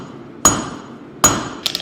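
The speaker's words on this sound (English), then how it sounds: "Now the weight of this hammer is nice" A diagonal peen hammer strikes hot metal on an anvil twice with sharp ringing blows, followed by a couple of lighter taps, close and alone.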